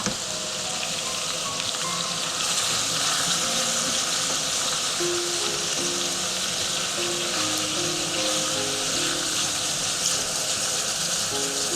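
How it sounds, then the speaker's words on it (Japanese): Onions frying in a pan for a potato katsu curry give a steady, close sizzle that runs unbroken and fairly loud throughout, with no voices over it. "そしたらね、玉ねぎ入れていきます。"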